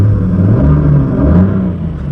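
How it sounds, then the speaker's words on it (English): A BMW M3 engine revved while stationary, a loud, deep, continuous rumbling roar that swells and holds steadily throughout, heard close up with no talk. "What if I rev it?"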